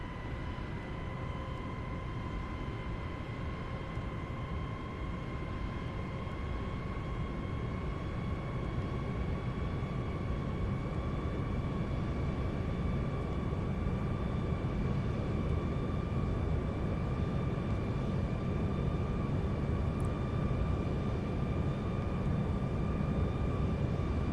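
An L-1011 TriStar jet in the flight simulator FSX, a steady engine roar with faint whining tones, heard as a constant even drone throughout with no talking.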